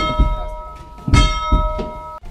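A school bell marking the end of a lesson rings with sustained metallic tones, struck a few times with dull thuds beneath, close and fairly loud.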